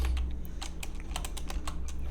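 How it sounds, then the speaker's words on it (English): Rapid, uneven keystrokes clatter on a computer keyboard at close range, a steady run of clicks over a low background hum with no talk. "I'm going to hit backspace and type outline"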